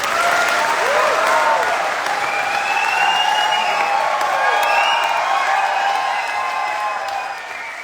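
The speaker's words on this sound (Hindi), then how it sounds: "जोरदार तालियां विनायक के लिए होनी चाहिए" Audience applause at a Vestige training seminar, a sustained burst of many people clapping with some cheering over background music, steady and loud before easing off toward the end.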